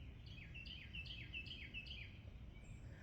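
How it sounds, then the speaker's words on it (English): A cardinal repeats a clear, whistled phrase five or six times in a steady rhythm, fairly faint and a little distant over a low rumble of background noise from a rainy day. "I'm sure that's a cardinal."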